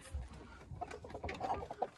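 Hens in a wire-topped, multi-level enclosure give soft, scattered clucks and short calls, close by and moderate in loudness, with no talk over them.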